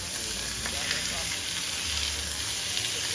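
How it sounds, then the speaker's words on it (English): Steak sears in a hot pan with a steady, close, loud sizzle that carries on without a break and has no talking over it. "we're going to go ahead and flip our steak. Got a nice little sear on both sides"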